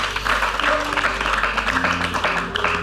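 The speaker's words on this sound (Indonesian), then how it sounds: "Tepuk tangan dulu untuk Nita dan Uri Rafael." A television studio audience applauds a couple on stage, steady clapping layered over held musical chords that shift partway through, fairly loud and close.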